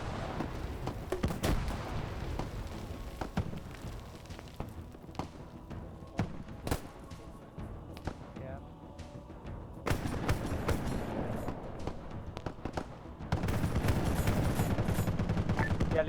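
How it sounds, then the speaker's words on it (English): Video game gunfire from an ODST-themed squad operation, with bursts of shots spread across the clip, rapid crackling volleys especially near the end, under a dense background of game noise. "There is someone shooting"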